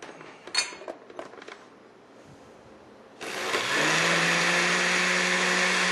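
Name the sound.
blender pureeing soup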